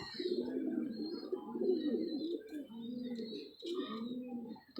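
Pigeons coo steadily in low, rolling repeated phrases, fairly close and continuous, with a few faint higher bird chirps scattered above them.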